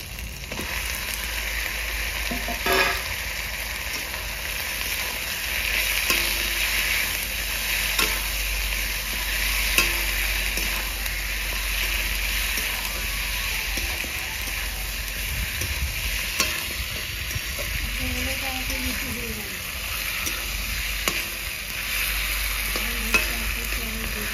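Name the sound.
chicken meat frying and being stirred in a pan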